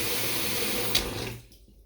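Water gushes under strong pressure from a newly fitted kitchen tap into a deep sink, a steady, loud rush that cuts off near the end as the tap is turned off.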